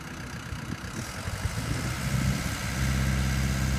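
The engine of a Barbco 824 CBM boring machine starts up and runs, a steady low rumble that swells louder as the throttle comes up, with no talk over it.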